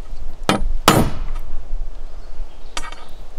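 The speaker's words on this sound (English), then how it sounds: "We're gonna use a Phillips head. Phillips head and a steel hammer mallet. So we can punch a hole, pilot hole." A steel hammer mallet strikes a Phillips screwdriver to punch a pilot hole at a campsite, with three sharp metallic blows, two close together and a lighter one after a pause, against outdoor background noise.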